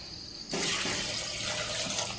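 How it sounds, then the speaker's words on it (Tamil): Water pours from a tap into a cooking pot of chickpeas with rock salt for chole masala, a steady hissing rush starting abruptly after a brief quiet moment and continuing loud and close. "தண்ணி ஊற்றிக்கலாம்"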